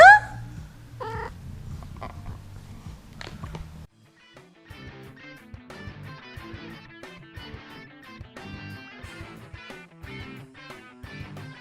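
A cat purrs and meows close by in a quiet indoor room, with soft intermittent meows over a low purr. Faint tonal sounds play in the background later on.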